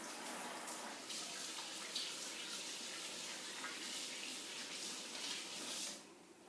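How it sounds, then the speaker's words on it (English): A kitchen tap runs steadily while hands are rinsed, a close, constant rush of water that stops abruptly just before the end. "I'm going to rinse my hands off before I put these biscuits in the oven"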